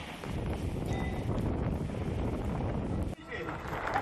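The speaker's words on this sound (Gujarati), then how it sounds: "ભારે પવનની સાથે વરસાદની શરૂઆત થઈ" Strong storm wind ahead of rain in Gujarat roars steadily into the microphone, a dense rumbling buffet that briefly dips near the end before surging again.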